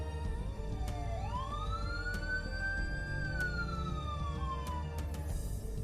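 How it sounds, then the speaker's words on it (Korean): An ambulance siren sweeps up and holds a long rising-falling tone over steady traffic rumble, with a few sharp clicks along the way. "구급차가 노란 소리를 내며 아이신의 집 앞에 섰다."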